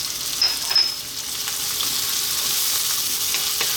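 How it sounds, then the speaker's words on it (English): Garlic ginger paste sizzles in a hot pan, a steady bright hiss with a few sharper crackles and pops near the start, continuous and close with no talking. "We're now going to drop in our garlic ginger paste,"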